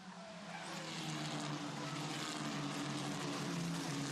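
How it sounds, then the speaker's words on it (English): A race car spinning on the track during a race, car number 73, gives a loud, steady roar of engine and skidding tires that swells in the first half second and then holds for about four seconds. "Spinning car 73, Roykov, in fact it was."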